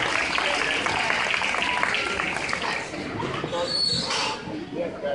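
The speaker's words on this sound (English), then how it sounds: "a big round of applause for our good work" A crowd claps in a steady patter of applause for several seconds, with voices mixed in.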